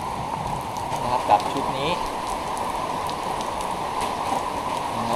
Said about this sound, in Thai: ฝนก็ตกด้วยนะวันนี